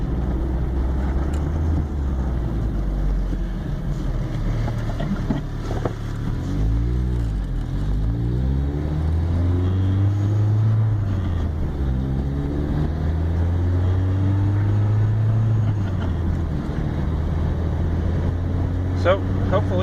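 A 1981 VW Rabbit engine drones loudly and continuously from inside the car, its pitch sweeping up and down as it revs through a downshift, with a voice talking over it.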